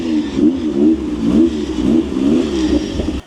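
A twin-turbo Acura NSX engine that had been left sitting runs roughly, its idle wavering and surging unevenly in a loud, close, lumpy drone before cutting off abruptly at the end.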